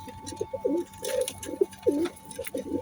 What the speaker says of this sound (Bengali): এটা একটা নতুন কবুতর।